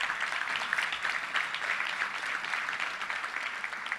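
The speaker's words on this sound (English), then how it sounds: "round of applause" An audience at a touchdown club luncheon breaks into sustained applause, a dense, even wash of clapping from many hands that holds steady throughout without a voice rising above it.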